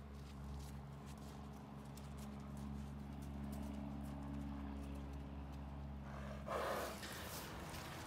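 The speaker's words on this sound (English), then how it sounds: "So let's go ahead and feed these horses." Horses shuffle and move about in a dry lot while being fed, soft hoof clops and snorts over a steady low hum, with a brief louder rustle near the end.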